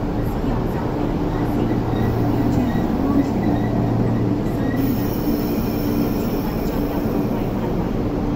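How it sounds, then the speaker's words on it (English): A 12-car MTR East Rail Line train arriving at a station toward Mong Kok East, a steady loud rumble of wheels and rail noise with faint high squeal, continuous throughout with no speech. "A 12 car train to Mongkok East is arriving."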